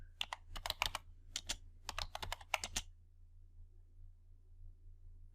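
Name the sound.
typing on a computer keyboard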